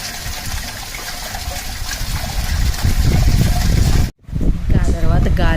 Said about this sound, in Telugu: పైన డాబా మీద నుంచి మ్యాన్ హోల్ నుంచి ఎంత వాటర్ వస్తుందో